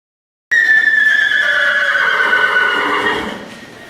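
A horse gives one loud, close whinny, a high wavering call that begins abruptly and slowly tails off over about three seconds, with faint clip-clop in the background.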